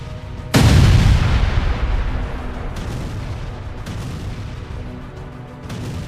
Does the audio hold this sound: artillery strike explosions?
yes